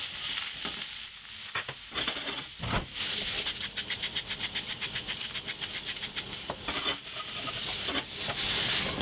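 Food sizzles and spits steadily in a very hot pan, with occasional louder bursts as it is stirred or moved, close up and with no talking.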